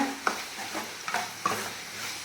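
Green chilli and chilli powder masala sautés in hot oil, with a steady low sizzle and three or four distinct scraping stirs of a spoon against the pan, close and moderately loud.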